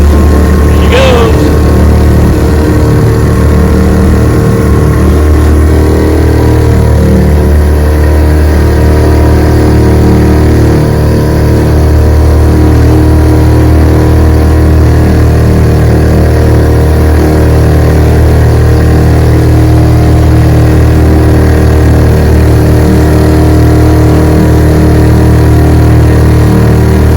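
A vintage outboard motor drives a boat at full throttle, a loud continuous drone close by and sustained steadily throughout.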